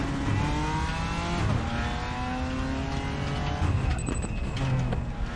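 A GT4 race car in RaceRoom roaring at high revs, its engine note climbing and dropping through gear changes with brief tyre squeal, loud and steady throughout.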